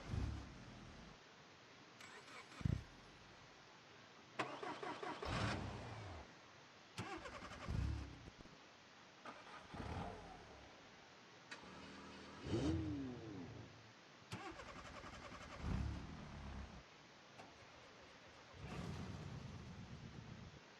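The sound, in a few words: car engine ignition starting, from video game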